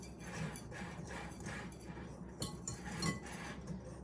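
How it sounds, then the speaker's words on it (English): Flour and salt being whisked together in a bowl for a pumpkin roll and blondies, with soft, quick clinks and taps of the whisk against the bowl, close but quiet, with no voices. "We are going to whisk these things together so they are nice and light."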